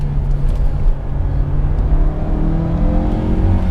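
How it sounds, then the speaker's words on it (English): Engine of a 2016 Mazda CX-3 Grand Touring with a high-compression direct-injection Skyactiv engine, pulling through hairpin turns, a loud close steady drone that rises in pitch as it accelerates. "the engine is high compression and has an advanced direct injection system"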